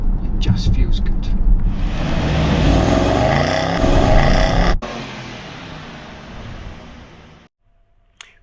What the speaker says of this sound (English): just listen to the sweet soundtrack of the V8